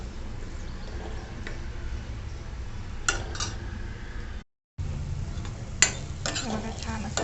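Red chilli powder, turmeric, coriander powder and onion-garlic masala being sautéed with onion and tomato in a pan, giving a steady low sizzle with occasional spoon scrapes and clinks against the pan.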